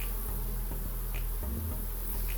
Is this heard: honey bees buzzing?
yes